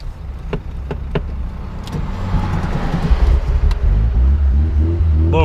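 An old boxy Volkswagen Gol, stalled on a highway after hard acceleration, is cranked and restarted, a loud close engine rumble building and then settling into a steady idle with no talk.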